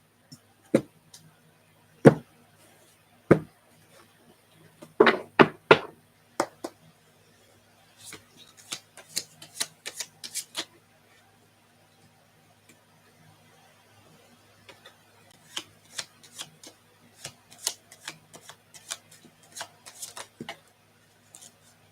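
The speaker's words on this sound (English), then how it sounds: "Let me shuffle real quick." Cards shuffled for a tarot-style reading, heard as sharp riffling bursts and scattered snaps in irregular clusters, close and fairly quiet, with brief gaps of near silence between the flurries.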